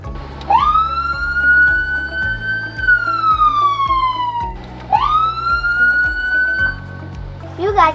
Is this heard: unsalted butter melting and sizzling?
no